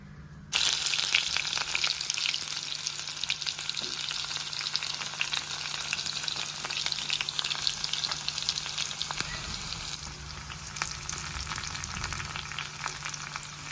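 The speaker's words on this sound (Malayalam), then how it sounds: "ഗോൾഡൻ ബ്രൗൺ ആവുന്ന വരെ വർഷക്കണം" Hot coconut oil frying for mambazha pulissery bursts into a loud, dense sizzle after a brief silent moment and crackles steadily throughout, with a faint low hum underneath.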